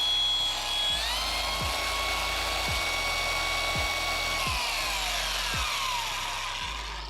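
Milwaukee M18 cordless polisher with 15mm orbit, freshly swapped grease, runs as a steady motor whine with a rhythmic low thump about every second, close and loud throughout.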